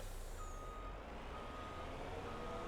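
A truck in Farming Simulator 25 backs up to hook a B-train trailer, its reversing beeper repeating steadily over a low idling engine hum, fairly quiet.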